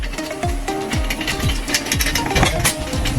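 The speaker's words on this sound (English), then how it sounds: "Using screwdriver machine to tighten the screws." A power screwdriver drives screws into a heavy duty steel rack: repeated short whirring runs with ratcheting clicks, close and steady, overlapping metallic clatter.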